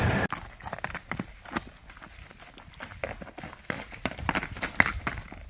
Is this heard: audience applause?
no